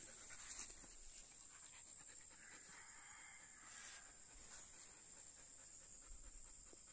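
A Belgian Malinois pants softly on a hike, breathing quick and faint in a steady rhythm, with a couple of brief knocks over a quiet outdoor background.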